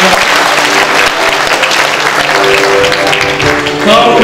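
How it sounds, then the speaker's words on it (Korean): Applause from a large crowd at a Korean party convention electing its leader and youth chair: loud, dense, continuous clapping that fills the hall, with faint voices and a brief tone beneath it. "박수 부탁드리겠습니다."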